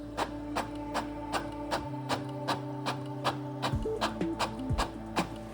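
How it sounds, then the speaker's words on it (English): An Epson printer running off an Epson Connect document gives a steady series of regular mechanical clicks and ticks with a low motor hum underneath, fairly close and alone. "the printer automatically prints the"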